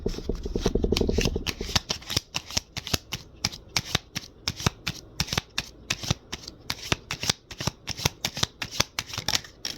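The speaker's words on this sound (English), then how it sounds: "I'm just going to shuffle these real quick." Tarot cards being shuffled in a steady, rapid run of crisp flicks and riffles, close and clear, with no talking.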